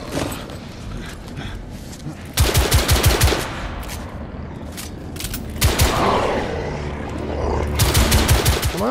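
Rapid automatic gunfire in the video game The Order 1886, with sharp repeated bursts of shots at about 2.5 seconds and again near 5.5 and 8 seconds over steady game ambience and occasional talk.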